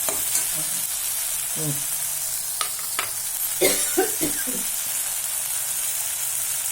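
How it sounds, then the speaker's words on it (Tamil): Tomato puree poured into a hot frying pan for keema dosa, bringing up a steady close sizzle with a few sharp stirring clicks and scrapes scattered through it. "இப்போ பியூரி ஊற்றணும்"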